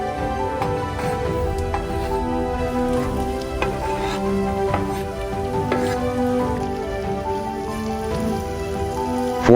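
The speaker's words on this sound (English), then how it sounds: "In the same pan, fry 1 chopped onion and 3 cloves of garlic, followed by 1 chopped tomato." Chopped onion, garlic and tomato fry in a pan with a dense, steady crackling sizzle, close and fairly loud, with a few sharper pops throughout.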